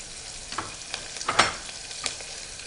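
Curry leaves, mint and coriander fry in a hot pan for chicken pulao, giving a steady, low sizzle broken by scattered sharp crackles and pops, with no voices.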